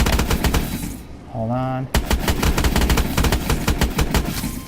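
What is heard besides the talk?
EPM3 gunfire in the video game Call of Duty Advanced Warfare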